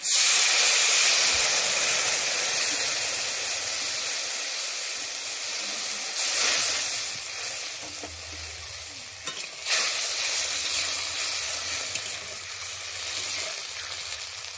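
Water poured into a hot pan of Kashmiri chilli powder while cooking shorshe ilish, setting off a loud, steady sizzle and hiss that softens and steams on, with occasional stirring scrapes and no talk.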